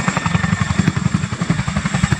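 A Chinook helicopter coming in to land at an RAF air display: a loud, close, rhythmic rotor thud beats steadily over a constant engine roar.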